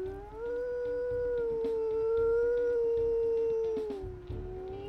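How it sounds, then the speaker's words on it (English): Wolf pups howling in the WolfQuest game, set on the Lost River map: one long, steady, mournful howl that is loud and close. It holds nearly level for about four seconds before dropping in pitch at the end. "let's go ahead and listen to these puppies' howls"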